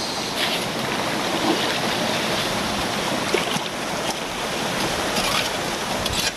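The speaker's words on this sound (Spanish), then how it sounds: "Para los que no conocían de dónde tomaban el agua, aquí está la fuente." Water flowing steadily at a community spring that supplies drinking water, a continuous close rushing wash with no break and no speech.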